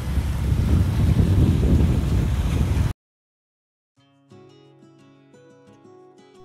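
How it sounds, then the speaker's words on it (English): Sailboat motor sailing through about four knots of light wind: a loud, steady rumble of wind and boat noise for about three seconds cuts off abruptly, followed by a gap and then soft music. "We're currently motor sailing right now because there's only about 4 knots of wind."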